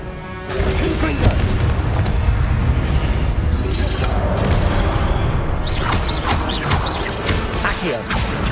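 A Confringo blasting spell explodes in Hogwarts Legacy, a loud, booming blast with crashing debris over continuous dense game sound, followed by further whooshing magical effects.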